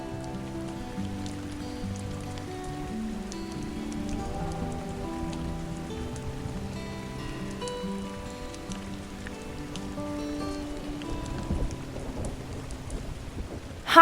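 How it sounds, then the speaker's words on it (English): A thunderstorm with heavy rain pattering steadily on surfaces and low thunder rumbling through it, at moderate loudness with no voices. "It started to rain."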